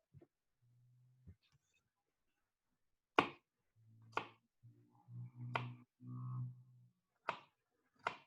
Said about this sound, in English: Why are we chopping the garlic this time?